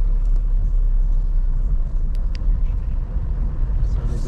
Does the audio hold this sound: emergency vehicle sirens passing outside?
no